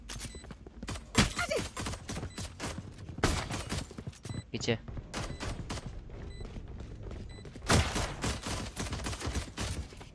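Gunfire in the Valorant match, scattered sharp shots and short bursts ringing out amid game effects, with someone talking over them.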